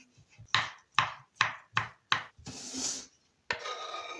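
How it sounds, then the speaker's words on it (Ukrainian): Five sharp knife chops on a wooden board in a steady rhythm, cutting sausage into cubes, followed by a scraping sweep and one more chop, close and clear. "ковбаску також кубиками нарізаю."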